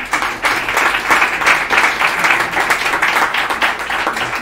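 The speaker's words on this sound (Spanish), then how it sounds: "Un aplauso para Enrique." A lecture audience breaks into steady, moderately loud applause for Enrique, many hands clapping densely and evenly throughout without fading.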